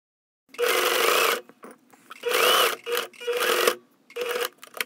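A home sewing machine runs a basting stitch through knit fabric in four short, close bursts of whirring, with brief silences between the runs.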